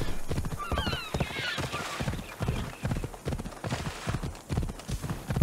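Hooves of the horse Phobos clip-clop in a steady galloping rhythm in Assassin's Creed Odyssey, with a brief whinny and some faint, bird-like honking early on, loud and continuous throughout.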